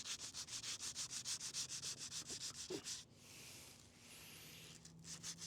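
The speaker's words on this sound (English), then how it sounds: "I'll be careful and try to sand it more until there are no" A Tesla alloy wheel's curb-rashed rim is hand-sanded with fine sandpaper in quick rhythmic back-and-forth strokes, close and scratchy, pausing briefly midway before the rubbing resumes.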